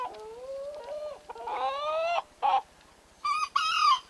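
A young cockerel with very little spur development calls out at a 4-H poultry judging, giving several close, loud, harmonic squawking calls in short bursts separated by brief pauses, with no talking.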